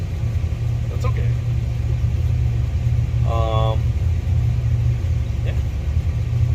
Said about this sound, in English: I'm running the grain cart right now until the truck gets loaded